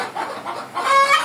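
Chickens cluck in short, busy bursts close by, a few overlapping calls rising and falling over a second or so without any talking.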